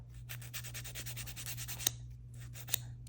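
Excess acrylic being filed off a fingernail during an acrylic full set: rapid, even back-and-forth rasping strokes, close and steady, with a couple of sharp taps, no talk.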